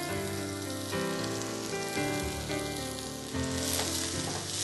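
Minced onion fries in a pan with a steady, even sizzle and faint crackles over a low tonal background hum. It carries on for several seconds with no talking.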